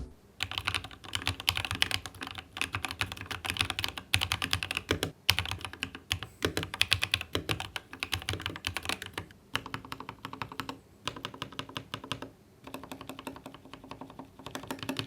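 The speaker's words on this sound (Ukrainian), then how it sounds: "І послухайте, як звучить Rockfall 2 TKL Mecha." Continuous fast typing on a Hator Rockfall 2 TKL Mecha mechanical keyboard with lubricated linear switches and stabilizers, close up, with dense clacky keystrokes and brief pauses between bursts.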